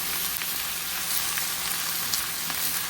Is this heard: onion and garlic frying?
yes